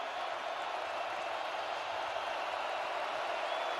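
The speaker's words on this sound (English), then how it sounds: "And the crowd has returned here at Ohio State." Ohio State stadium crowd during a college football game against Maryland, a dense, constant roar of distant voices that stays even and unbroken with no clear speech on top.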